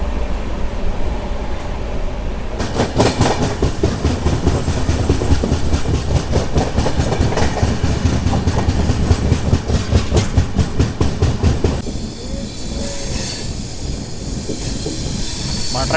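The Kerala SF Express rolls along the tracks around a curve, heard from inside a sleeper coach, with a loud continuous rumble and fast rhythmic clatter that shifts to a smoother hiss near the end.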